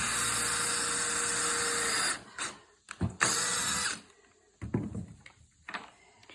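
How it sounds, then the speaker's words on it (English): A power drill boring pilot holes into dried oak boards while building barn doors; a sustained high whine for about two seconds, then several short spurts and bumps of the tool, close and moderately loud. "We have to pre-tap into this oak because it's dried and it will rip the heads of these screws right off."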